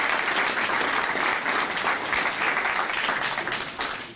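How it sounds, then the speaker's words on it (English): An audience at a fire department awards ceremony gives a round of applause, dense and even clapping throughout that thins slightly at the very end. "give him a round of applause"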